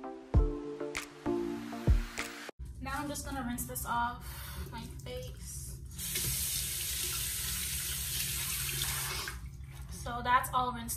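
Running water from a bathroom sink tap as a face is rinsed, with splashing and steady flow filling most of the stretch, close and moderately loud after a few soft taps at the start.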